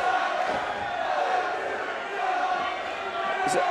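Steady crowd roar at a ROAR fight event in October 2017, a sustained dense murmur with occasional shouts rising above it, continuous and fairly loud throughout with no clear breaks.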